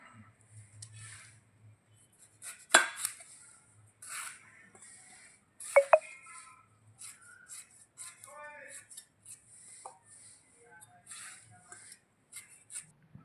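A knife chops an onion finely for a green mung bean curry, giving scattered, light taps and clinks on a board with a couple of sharper knocks, quiet and close.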